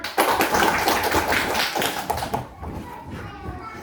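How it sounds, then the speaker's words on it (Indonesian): An elementary school class in Indonesia claps hands together in a loud, busy flurry of sharp slaps. After a couple of seconds the clapping drops away, leaving room noise and children's voices in the background. "Oke, tepuk tangan."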